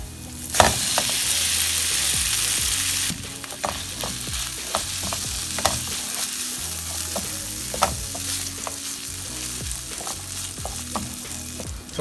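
Minced sausages with chopped garlic fry in a pan for homemade samosa filling, a steady loud sizzle broken by repeated scraping and clacking strokes of a spoon stirring.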